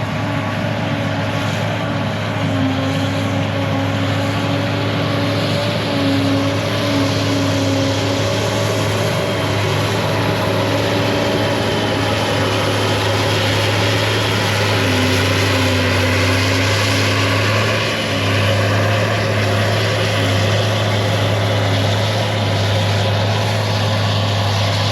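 A forage harvester's chopper engine runs continuously for the full length, a loud steady droning hum with faint shifting tones over it and no voices.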